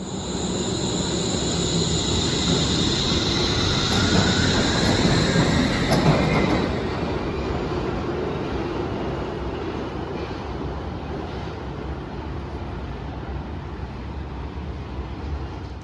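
Wuppertal Schwebebahn suspended train running westbound, a steady close rumble of wheels and carriage with a brief rise in intensity early on, continuous throughout with no talking.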